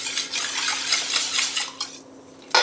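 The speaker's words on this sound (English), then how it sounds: "Add the milk, the heavy cream, and whisk again until well blended." Milk and heavy cream are whisked in a bowl for savory bread pudding, a quick rhythmic scraping and swishing close by that slows and ends with a clink.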